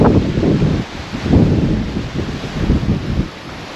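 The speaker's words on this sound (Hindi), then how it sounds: "क्या हवा चल रही है यार" Strong wind blows outdoors near a hillside tea garden on the road between Ooty and Mysore, a loud, continuous buffeting rumble across the microphone that rises and falls in gusts, with no speech.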